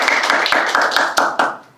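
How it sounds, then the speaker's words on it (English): Close, crisp clapping from an audience at a disability apprenticeship program launch, a quick run of distinct claps that tapers off and ends within two seconds. "We can clap for that."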